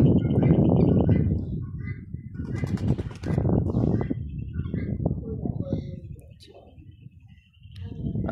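Grey partridges (titir) call from inside their enclosure on a misty hillside farm, soft cooing notes half-buried beneath near, steady human voices throughout.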